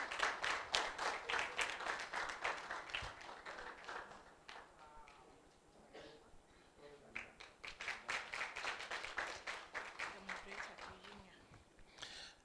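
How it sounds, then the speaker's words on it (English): Audience applause at an alumni masterclass event, a steady stretch of many hands clapping that swells, dips briefly in the middle, then builds again, with a few voices faintly underneath. "Let's give a round of applause."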